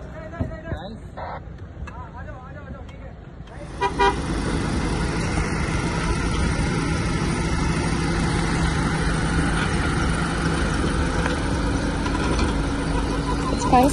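A 2020 Mahindra Thar driving off-road: a loud, steady engine and tyre rumble starts abruptly a few seconds in and carries on unbroken, with voices calling out nearby.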